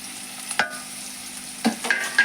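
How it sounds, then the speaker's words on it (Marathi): Sliced onions fry in hot oil for a Konkani vegetable dish, a steady close sizzle broken by a few sharp scrapes and clinks of stirring. "कांदो आपलो लालसर होईपर्यंत भाजून घ्यायचो म्हणजे कांदो तेलात भाजा होयो"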